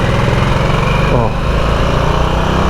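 A Harley-Davidson Nightster motorcycle on the move, its engine droning loud and steady close by with a brief dip in revs midway, wind noise underneath and a voice mixed in.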